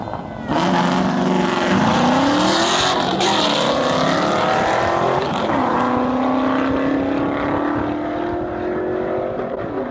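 A 2001 Ford Mustang Bullitt and a six-speed Trans Am WS6 race side by side, their engines roaring loudly and steadily as they pull hard through rising gears, with brief dips at shifts.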